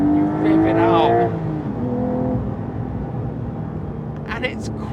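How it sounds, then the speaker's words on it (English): Porsche 911 Carrera T of the 992 generation, 2024, revving hard as it accelerates, a rising engine note up close that fades into steady road roar, with someone talking over it. "if you want to go fast, you rev it out."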